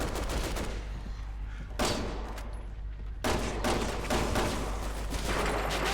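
Rapid gunfire in Resident Evil 6, a dense, continuous barrage of shots with brief gaps, loud and steady throughout with little talk.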